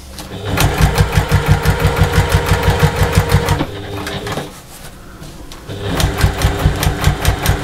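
Sewing machine stitching a fabric pocket for a ruler storage organizer, running in rapid even bursts, pausing briefly mid-seam, then resuming for a back stitch, close and loud with no talking.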